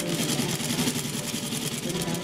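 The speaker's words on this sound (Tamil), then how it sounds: "அந்த பக்கம் ஷோல்டரை அட்டாச் பண்ணிக்கணும். 2 தையல் போட்டுக்கோங்க." A sewing machine stitches the shoulder seam of a newborn baby dress, a close, steady whirring hum with fast even rhythmic pulsing and no pauses.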